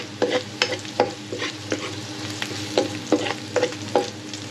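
Vegetables for pancit stir-fried in a pan, a continuous sizzle broken by repeated scraping strokes of a spatula at an irregular rhythm, close by with no talking.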